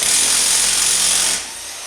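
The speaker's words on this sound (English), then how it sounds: "This impact gun is pretty strong, so it'll pop it out." Pneumatic impact gun hammering off a 27 mm front axle nut on a Yamaha Grizzly 660 ATV, a loud steady buzzing rattle lasting over a second before cutting off abruptly.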